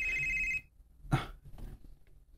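A cellphone rings indoors with a steady electronic ringing tone for about half a second, then cuts off, followed by a brief bump and low room noise.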